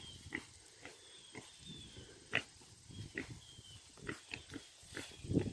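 Pigs grunting and snuffling on a farm, a run of short, irregular grunts and squeals close by, fairly faint over a quiet outdoor background with no talk.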